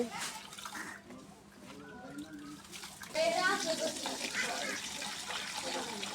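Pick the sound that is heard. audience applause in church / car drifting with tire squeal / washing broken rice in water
washing broken rice in water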